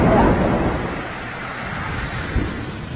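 Heavy rain pours steadily in Palanpur as a broad, close hiss with a faint low thunder rumble, plus one brief louder thud near the end.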